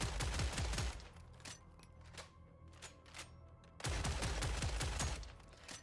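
In Killing Floor 3, an automatic gun with heavy, violent recoil fires in two dense bursts, a long rattling volley followed after a pause by another, with scattered single shots in between.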